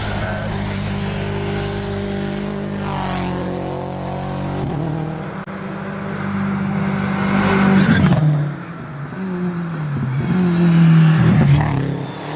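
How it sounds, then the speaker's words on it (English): A Subaru Impreza with four-wheel drive launches up the Shelsley Walsh hill climb. Its engine revs loudly and close by, pulling hard through the gears, with tyre noise as it moves off. A faint commentary voice runs underneath. "Richard Hampstead from London, he's just away in the Subaru Impreza"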